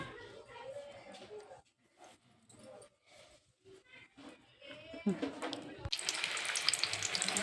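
Samosas deep-fry in hot oil with a bubbling sizzle that swells to a loud, dense crackle near the end, while a voice talks over the quieter start.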